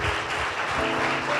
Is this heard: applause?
yes